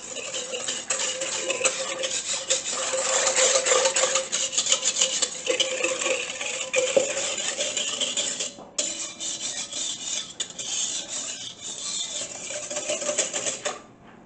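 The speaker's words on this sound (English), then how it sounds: "I just want to give this a little bit of a whisk." A whisk scrapes and rasps steadily against a bowl, mixing instant yeast and sugar into water for pizza dough, a close, continuous scratchy stirring with a brief pause partway through and no talking.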